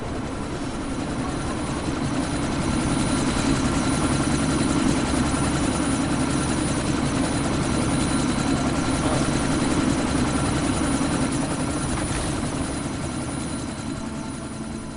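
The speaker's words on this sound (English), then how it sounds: "That chopper's about to take off!" Helicopter from the video game Deus Ex: Mankind Divided, its rotor and engine drone steady, loud and close as it prepares to take off, filling the whole stretch with no voices.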